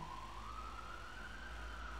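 An ambulance siren passes outside, a faint, distant, steady wailing tone that slowly rises in pitch over a low background hum, with no one speaking.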